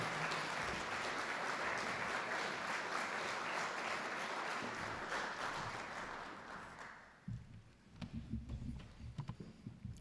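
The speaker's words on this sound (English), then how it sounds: "let's stand, let's give a round of applause" Audience applause at a morning business breakfast event, a dense steady clapping that runs about seven seconds, then fades into scattered claps and low room noise.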